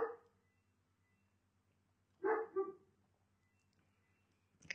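A dog barks indoors at a moderate distance, one short bark at the start and a louder double bark in the middle, with near silence between and a faint hum underneath.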